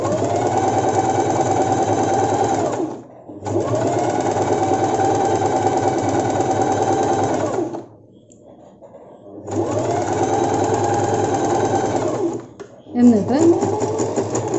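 A sewing machine stitches the folded hem of a petticoat cut from a saree, running loud and steady in three long bursts with brief stops between them, then a short final run while someone speaks.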